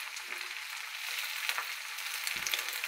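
Taro leaves (kochu shak) frying in a pan, a steady close sizzle and crackle with faint stirring bumps and no speech.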